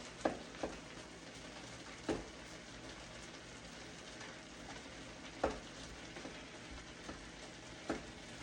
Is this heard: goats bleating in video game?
no